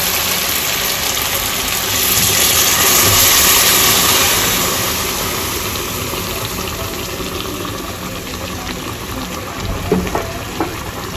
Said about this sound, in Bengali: তো তাই জন্য ওপর দিয়ে গরম জলটা দিলাম